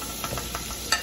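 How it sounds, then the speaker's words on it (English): Butter sizzles in a hot pan, a steady, close crackling hiss broken by a few small pops and stirring scrapes, with no talking. "And there's my butter in my pan."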